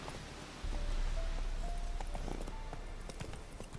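Hoofbeats of a ridden horse in The Witcher 3, a soft continuous clip-clop over an outdoor game ambience with faint tonal cues, fairly quiet and without speech.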